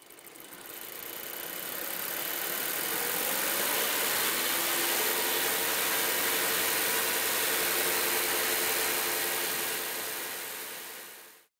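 Gasoline port-injected engine running steadily pre-catalytic converter at around 2500 RPM in a test setting, a loud continuous broadband roar with a faint rising tonal whine, fading in at the start and cutting off at the end.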